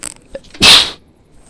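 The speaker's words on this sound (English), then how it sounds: "That was a sneeze." A single sharp, loud sneeze bursts out close to the microphone after a faint breath, then quickly cuts off into quiet.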